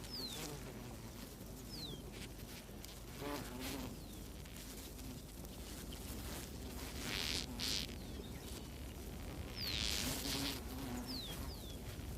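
Swarming male Ammophila wasps on aerial patrol above the ground, a continuous faint insect buzz with shifting whines as individuals pass, set in a quiet outdoor background.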